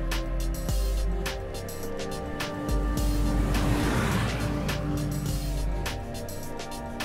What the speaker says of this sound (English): As the vehicle accelerates around the corner, the traction control systems, in conjunction with slip control systems, will ensure we're delivering optimum tractive effort to the road.